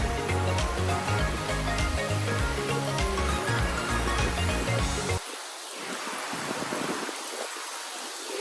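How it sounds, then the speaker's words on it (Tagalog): Dense, loud rain roars steadily on Maafushi Island in the Maldives, then drops abruptly to a softer, hissing patter of falling water. "It's raining!"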